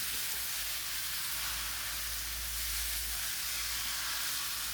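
Washed small chicken pieces hit a hot pan of masala, giving a steady, close, loud sizzle and hiss that runs unbroken from start to finish with no voices.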